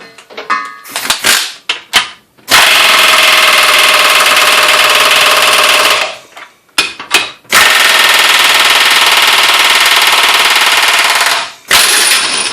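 Ingersoll Rand 2135QTI air impact wrench on wheel nuts, running at about 125 PSI: two long, loud bursts of rapid hammering, each a few seconds, preceded by short trigger blips, close up and dominating.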